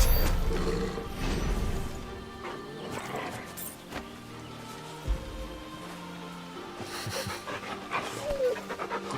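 Torgal, a dog in a video game, pants heavily and growls in rough, breathy bursts that are loud up front and then fade, with game combat noise and brief voices mixed in.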